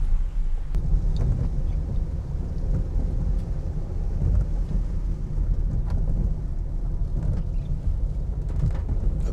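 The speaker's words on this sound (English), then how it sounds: "like we're starting to get a little bit of rain." Rain starting to fall on a rural street outside the tourist zones of Merida, with low rolling thunder and a steady broadband patter throughout, loud and continuous, with no voices.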